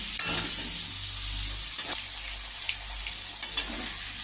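Potato and pumpkin pieces fry with shrimp in a pan, giving a loud, close, continuous sizzle broken by a few scraping stirs, with no talking.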